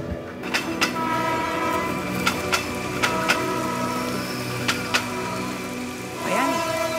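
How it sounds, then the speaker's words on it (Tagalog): Steady rain falls as a broad continuous hiss, with a low rumbling background and sharp intermittent clicks, plus a brief voice near the end. "Kung kailang nagmamadali tayo, dun pa umulan."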